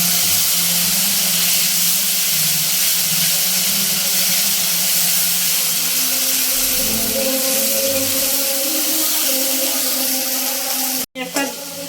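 Ground onion and green chili paste sizzling in hot oil with red chilies and bay leaf, a steady loud hiss and crackle that runs throughout, ending in a brief clatter.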